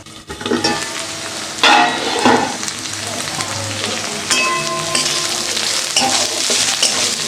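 Bottle gourd peel fries in a pan, a close, continuous sizzle broken by bursts of scraping as a spatula stirs the pieces around.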